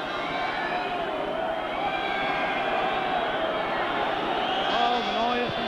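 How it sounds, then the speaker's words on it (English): A stadium crowd at a 1989 Wales v All Blacks rugby union match keeps up a loud, continuous roar and whistling during a kick at goal, with a commentator speaking over it. "Oh, the noise from the crowd, not sportsmanlike at all"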